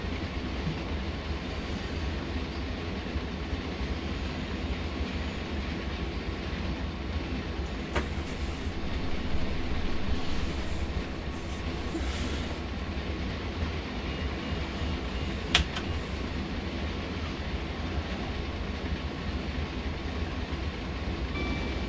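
Class 66 diesel freight locomotive from the Train Sim World game running on the Great Western line, a steady low engine rumble and rolling rail noise holding continuously throughout, with a couple of faint brief clicks.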